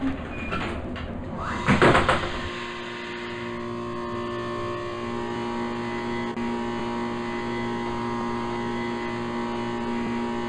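A Thyssen elevator's doors close with a short rattling clunk around two seconds in, then the cab settles into a constant electrical hum.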